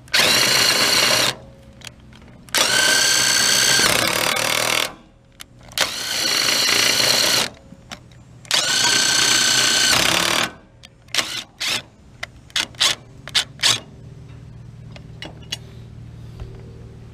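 Cordless drill with a socket adapter driving a trailer jack lift, running in three long loud bursts of whirring motor, then a string of short stop-start pulses as the trigger is feathered.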